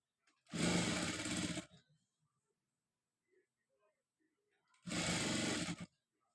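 A sewing machine stitches a frock sleeve in two loud, steady whirring bursts of about a second each, separated by a few seconds of near silence with faint handling noises.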